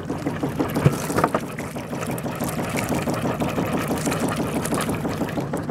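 A cold sailboat diesel engine runs steadily after a slow start, a close, continuous chugging rumble with an even rapid pulse and no voices.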